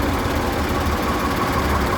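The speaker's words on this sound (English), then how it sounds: "Tractor run coming through Bradford Helperby." Vintage tractors on a tractor run pass through the North Yorkshire village of Brafferton Helperby, a loud, steady, low engine drone with a rough knocking pulse and no voices.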